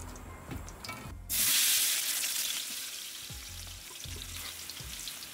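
Chopped whole spices hit hot homemade ghee and burst into a loud, bright sizzle that settles into steady frying, with soft stirring knocks underneath.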